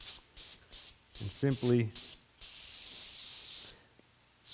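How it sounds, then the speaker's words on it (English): A can of brake cleaner sprays a motorcycle brake reservoir cap in several sharp hissing bursts, including a long steady blast, with someone speaking briefly between them. "spray off your cap, and we can blow it off with compressed air"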